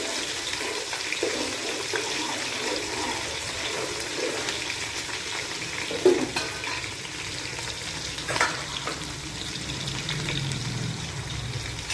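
Small shallots sautéing in a pan for village-style chicken gravy, a steady soft sizzle with occasional stirring scrapes, fairly quiet and continuous with no talking.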